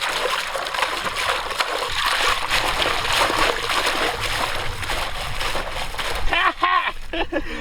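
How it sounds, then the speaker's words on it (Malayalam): Water splashes and sloshes continuously while a big whole octopus is washed, with a voice talking over the close, busy splashing. "നല്ലോണം കഴുകിയെടുക്കാട്ടെ അത്"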